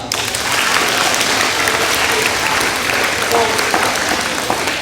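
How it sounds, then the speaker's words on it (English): Loud, dense applause from a school rally audience fills the whole stretch, steady and close, with faint voices mixed into the crowd noise. "Give a round of applause"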